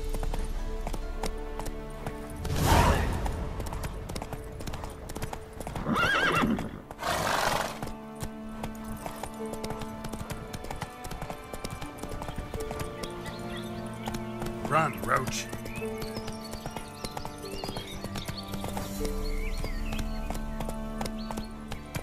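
A horse in The Witcher 3 gallops with a steady, quick clip-clop of hooves and lets out loud whinnies and snorts, layered over game ambience and spoken voices.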